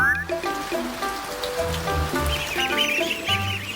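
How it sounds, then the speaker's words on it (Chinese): A nest of newly hatched wild ducklings gives thin, high peeping calls that build in the second half of the clip. The peeps sit over a steady patter and a low tonal background. "好像是刚破壳的鸭子叫声。"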